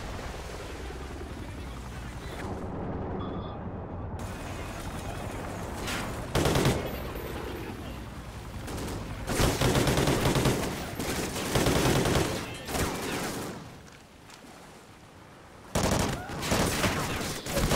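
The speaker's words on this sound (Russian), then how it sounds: "Хватит уже стрелять, да?" Sustained automatic gunfire crackles in bursts during a dam battle in Call of Duty: Ghosts, with heavy machine-gun volleys, a helicopter-like drone and brief lulls between exchanges, and voices speaking over the fighting.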